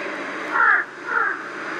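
A crow gives two harsh caws in quick succession, moderately loud and fairly near, over a faint background hiss.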